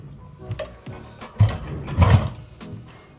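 Domestic sewing machine stitching piping onto a sweetheart neckline, short close bursts of rapid mechanical whirring with pauses and clicks between runs, quiet room.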